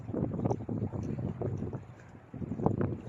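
Strong, cold wind blows outdoors on a windy day, buffeting the microphone with a close, low rumbling roar that surges and eases over a few seconds, with no talking.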